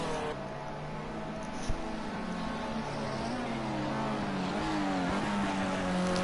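A Formula C race car on a flying lap of a circuit with a tricky chicane gives off a buzzing engine note whose pitch climbs and dips through gear changes, moderately loud over a steady background.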